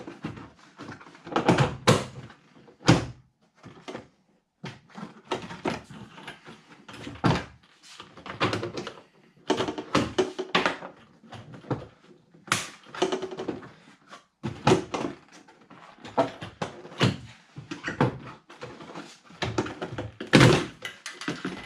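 A Jeep Wrangler JL interior trim panel is pulled off by hand, giving a series of loud, irregular plastic thunks, pops and clip releases with short pauses between bursts, close to the listener.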